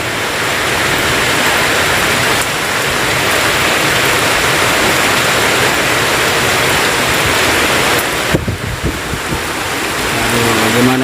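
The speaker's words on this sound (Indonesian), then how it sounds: "Hujan nih guys, hujan turun banyak guys." Heavy rain pouring down in a downpour, a loud, unbroken roar of dense drops hitting surfaces close by, with a brief dip and a few knocks near the end.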